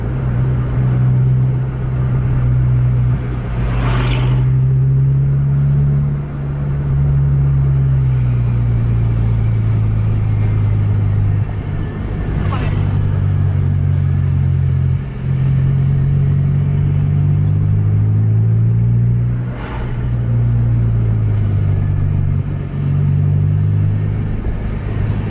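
A Scania bus drives hard at full throttle, its engine droning loud and steady with slow shifts in pitch and occasional whooshes of passing traffic.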